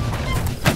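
Musket fire in the multiplayer war game Holdfast: Nations at War, a dense wash of muffled gunshots and battlefield noise with a heavier boom near the end.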